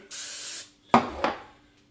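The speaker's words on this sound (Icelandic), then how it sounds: "Spreyja aðeins hérna meira í endan á forminu til þess að það festist betur." Baking spray hisses from a can into a bread pan in one sustained burst, followed by two short clicks or thuds of handling, close and clear with no talking.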